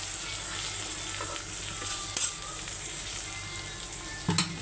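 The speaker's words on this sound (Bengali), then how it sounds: "চিংড়ি মাছটিও পেঁয়াজের সাথে ভাজা ফেলাম" Shrimp fry with onion in a pan, a soft steady sizzle at low level with a couple of brief clinks of utensil against the pan.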